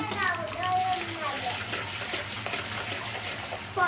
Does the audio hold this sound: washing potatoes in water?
yes